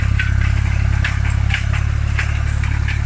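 A Tümosan tractor engine idles steadily with a low, thumping rumble, its rhythm constant throughout, close by with no talking, while pulling a cultivator.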